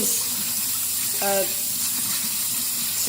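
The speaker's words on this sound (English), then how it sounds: "I always rinse the lentils, I give them a good wash, just until I really agitate them with my hands as well" Lentils are rinsed by hand, water sloshing and running steadily through the whole stretch, with a brief voice-like tone partway through.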